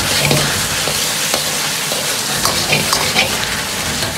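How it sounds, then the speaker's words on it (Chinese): Zucchini slices and pork stir-fry in a wok, a loud close sizzle under quick scraping and tossing strokes of the spatula, with no talking. "炒香后下入西葫芦片，这时候火稍微要开大一点，可以防止炒西葫芦出很多的水，翻炒均匀"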